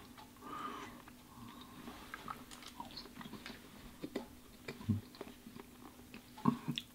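Two-day-old sushi and shrimp are chewed close to the microphone in quiet, soft, irregular bites and squishes, with a few sharper crunchy smacks toward the end.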